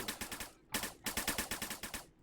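Rapid gunfire from the VR shooter Snapshot crackles in quick bursts, a dozen or so sharp shots in two runs separated by a short gap, close and alone.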